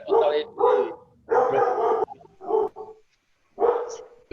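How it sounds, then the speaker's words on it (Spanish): A dog barks repeatedly off to one side during a Spanish-language meeting, loud bursts in an uneven rhythm with short pauses between them. "Perro por allá que quiere participar en la reunión"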